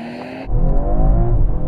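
A BMW M340d diesel and an Alpina B3 launching in a drag race, heard as a sudden loud deep engine roar that rises in pitch and holds strong as the cars accelerate, close and without talk.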